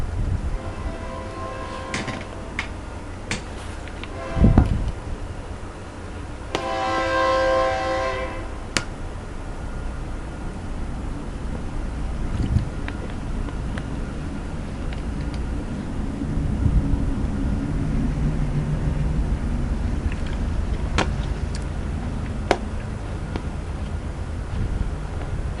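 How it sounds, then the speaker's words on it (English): A train rolls past outdoors, a low steady rumble building and fading across the stretch, with a short horn-like tonal burst midway and wind buffeting the microphone throughout. "Here comes a train."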